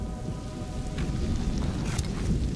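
Steady rain falls in A Plague Tale: Innocence, a dense, close hiss of drops on surfaces with a low rumbling undertone throughout, no voices.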